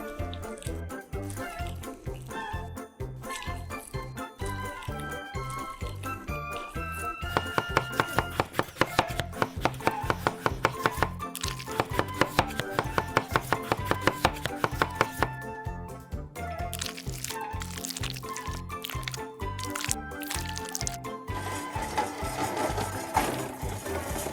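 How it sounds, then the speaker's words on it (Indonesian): Knife slicing and chopping shrimp on a board, steady rapid taps of the blade in a regular rhythm, close and fairly loud, with no talking. "Iris dan cincang udang."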